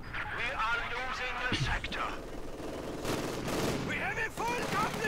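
Machine-gun fire in a strategy battle game, bursts of shooting and impacts mixed with battlefield noise, running under a commentator's steady talk.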